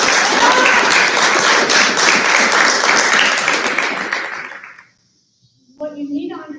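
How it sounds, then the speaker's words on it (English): Audience at a high school performing arts banquet breaks into steady, full clapping that tapers off and stops, followed by a brief pause before a voice starts speaking. "Go ahead and applaud for them."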